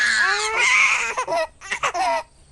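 A baby wails loudly with rising cries, then breaks into shorter, choppy sobs and whimpers that trail off.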